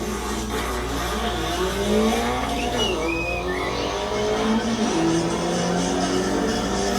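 Volkswagen Beetle drag racing a McLaren in Mexico: loud, continuous engine roar with rising and falling revs and tire squeal, close and steady throughout with no talk.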